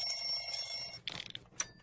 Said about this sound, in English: Tickety, we heard your alarm bells.